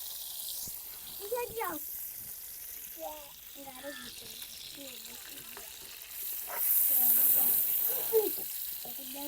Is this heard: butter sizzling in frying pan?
yes